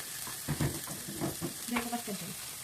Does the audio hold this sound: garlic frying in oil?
yes